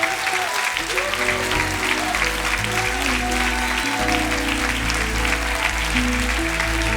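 Congregation applauding during a Spanish-language church sermon, loud sustained clapping layered over keyboard or organ chords and low bass, with some voices mixed in, continuous for the whole stretch.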